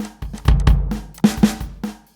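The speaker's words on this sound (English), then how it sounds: "drum machine kind of thing called FBC" The FBC drum machine plugin plays a punchy programmed pattern of booming kicks and snappy hits in a steady, loud groove with no voices.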